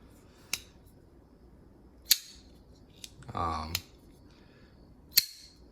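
Sharp metallic clicks and snaps from a titanium-handled folding knife opening and closing, four or five crisp snaps with a short scraping slide between them, close and isolated against quiet.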